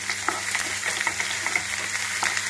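Green chillies fry in hot oil with thinly sliced ginger, a steady close crackling sizzle with small pops, cooking for a spicy Maggi masala noodle dish.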